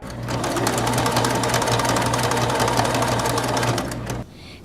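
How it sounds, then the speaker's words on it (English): A sewing machine stitches ballet costumes for a Nutcracker production, running in a steady, loud, close mechanical whir for about four seconds before stopping abruptly, with no talking. "While visions of sugar plums dance in children's heads, Sue Simoncini sews."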